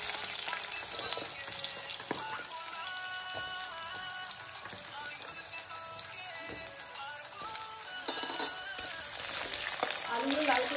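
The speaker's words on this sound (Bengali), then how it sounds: "আলুগুলো লাল করে দিয়ে নেবো" Cut potatoes fry in hot oil in a pan with two dried chillies and a bay leaf, giving a continuous crackling sizzle with stirring scrapes and a brief burst of louder spitting near the end.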